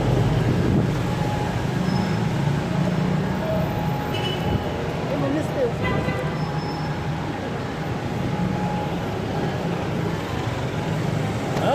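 An LRT train rumbles overhead on the elevated line in Quiapo, Manila, a steady, loud, continuous roar with faint wheel squeal over busy street noise.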